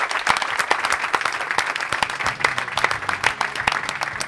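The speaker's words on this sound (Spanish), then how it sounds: "Un aplauso para Carlota" A television studio audience applauds a guest on a comedy show, loud close clapping with many distinct sharp hand claps standing out from the steady crackle of the crowd.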